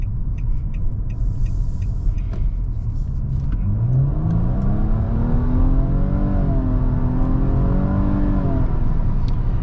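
A 2022 Nissan Maxima in automatic mode accelerates on a road test drive, its engine note climbing steadily in pitch as it revs up over a continuous low rumble and road noise heard from inside the cabin.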